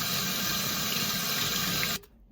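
Tap water runs steadily into a sink as seasoned chicken with thyme and pimento seeds is washed, a loud continuous rush that stops abruptly near the end.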